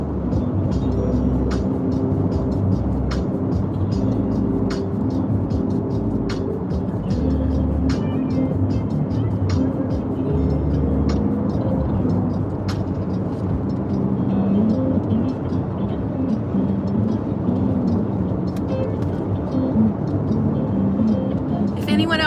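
Interior of a car driving on a highway, a steady loud road and engine rumble with faint ticking, while a person talks over it.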